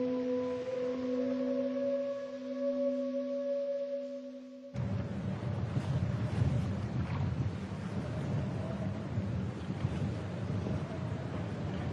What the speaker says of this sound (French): Aujourd'hui, il y a trop de vent pour utiliser la grande voile.